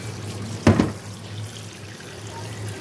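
An orange is washed under running tap water in a kitchen, heard as a low, steady trickle with a short splashing burst near the start, no voices.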